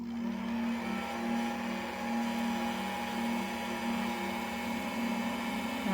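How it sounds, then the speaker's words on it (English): A hair dryer or heat gun blows steadily on freshly painted resin model horse, a constant close whirring hum with a strong low tone, unbroken and alone for the whole stretch. "I'm going to go ahead and I'm going to hit it with the dryer"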